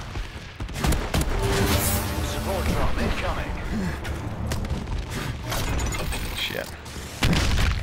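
Rumbling blasts and crackling impacts from a bombing run roll on continuously through a survival video game, with a heavier burst near the end, while players talk and shout over the noise.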